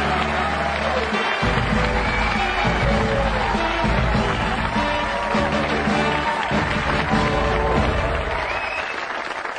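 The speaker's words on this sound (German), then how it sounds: "Ich bitte um einen Tooltime-Applaus für unsere Astronauten" Studio audience applauding the Endeavour Space Shuttle crew on a sitcom set, a steady broad wash of clapping that holds loud and dense from start to finish, with a cheering crowd beneath it.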